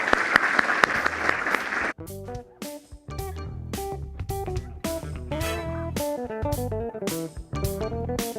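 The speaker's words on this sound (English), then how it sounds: "Can we please give a big round of applause for the audience here and the panelists?" A conference audience at a finance event claps in a dense burst of applause for about two seconds, then gives way to loud, rhythmic music with strong beats and tones.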